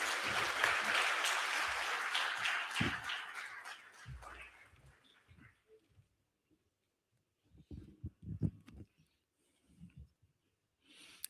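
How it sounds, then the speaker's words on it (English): An audience at an exclusive session with Kumar Mangalam Birla applauds loudly for about five seconds and then fades, leaving faint scattered room noises afterward. "let us hear a big round of applause for Mr."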